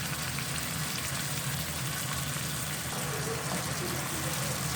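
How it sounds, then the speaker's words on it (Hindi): Chicken sizzles and fries in a pan over a medium flame, a steady close crackle and hiss that goes on without a break. "मीडियम फ्लेम पे हम इसको पका रहे हैं।"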